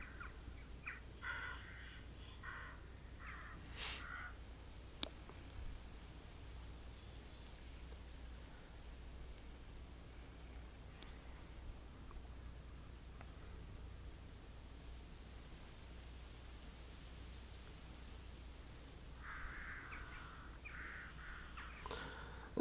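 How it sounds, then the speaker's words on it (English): Crows cawing in the virtual world of Second Life, a few scattered caws over a steady hissing ambient bed, with brief bursts near the start and again toward the end. "And then immediately the crows start up."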